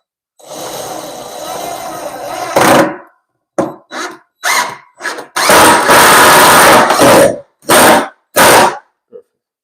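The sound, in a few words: screw driven into bifold door track with power drill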